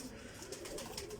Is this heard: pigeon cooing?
yes